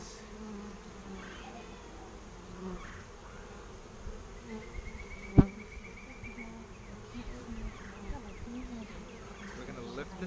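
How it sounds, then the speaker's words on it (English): Honeybees buzzing steadily around an open hive as frames are lifted during an inspection, a continuous close drone with a sharp knock partway through and quiet voices in the background. "There's a lot of bees on here, so we don't want to shake them."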